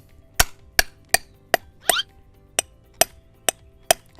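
Nails being hammered into plug anchors while fitting a knockdown prefab house, a steady series of about nine sharp, loud metallic strikes roughly every half second, with one scraping rattle between blows.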